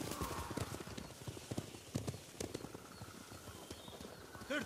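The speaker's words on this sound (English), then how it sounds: "Bastards scared off the horses" Several horses gallop away in Ghost of Tsushima, a dense clatter of hooves with snorts and a whinny, close at first and continuing steadily throughout with no talking.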